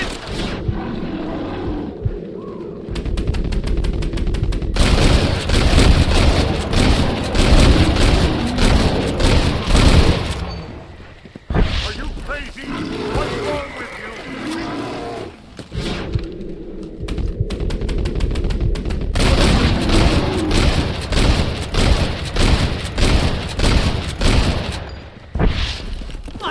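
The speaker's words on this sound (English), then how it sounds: "A bear! Shoot it!" Gunfire in Red Dead Redemption as shots are fired at a bear: loud, rapid bursts of repeated shots and booms, with two short lulls between sustained volleys and no talking.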